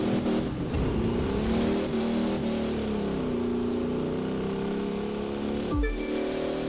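A car races across ice in The Crew 2, its engine droning steadily with a shifting revving pitch and a sudden sharp drop near the end.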